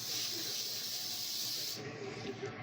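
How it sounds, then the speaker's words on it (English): A steady aerosol cooking spray hisses for nearly two seconds, then cuts off, leaving a quieter background hiss. "Spray it all really good with cooking spray."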